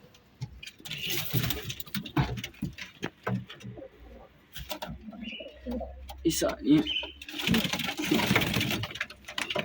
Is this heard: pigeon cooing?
yes